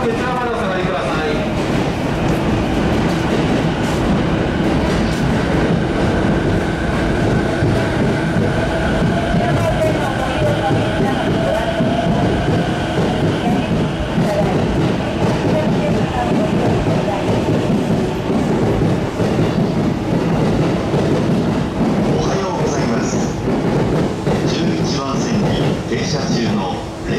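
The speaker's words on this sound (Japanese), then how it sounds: "列車到着します" A JR East series 215 electric train rumbles steadily into Shinjuku station, its heavy, continuous roar filling the space while voices and announcements carry faintly in the background.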